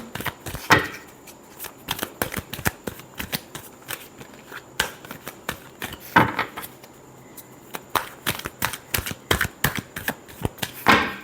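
Tarot cards being shuffled by hand, a run of quick crisp riffling and tapping bursts in irregular clusters, close and fairly loud, with no talking.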